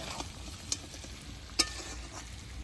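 Kadaknath chicken meat frying and being stirred in a pan, a soft steady sizzle with two sharp spoon scrapes against the pan.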